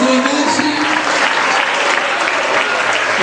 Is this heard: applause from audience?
yes